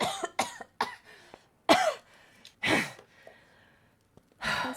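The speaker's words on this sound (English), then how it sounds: "and he starts coughing" A man coughs several times in short, rough bursts separated by pauses, with a strained breath between, close and fairly loud.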